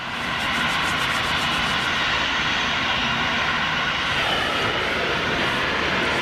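Jet engines of an Ilyushin IL-76 freighter run steadily at an airport, a loud, continuous broadband roar and whine holding at constant level throughout.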